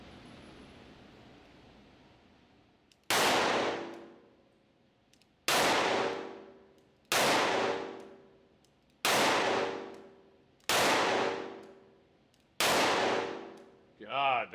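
Six loud, sharp revolver shots from a Spohr firing 158-grain Remington .357 Magnum rounds, spaced a second or two apart, each ringing out with a long decaying tail.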